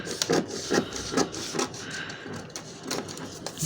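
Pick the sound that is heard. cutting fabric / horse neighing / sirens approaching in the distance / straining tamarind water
cutting fabric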